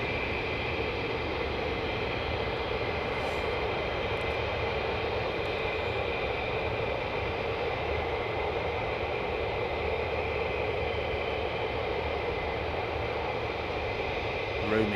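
A fighter jet, an F-35 or F-15, roars steadily and loudly overhead as a continuous broadband engine rumble with a whining tone, sustained without breaks for the whole stretch.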